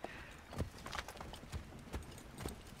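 Horse hooves clip-clop steadily at a trot in the Assassin's Creed III video game, a regular rhythm of moderately loud hoofbeats with no talking.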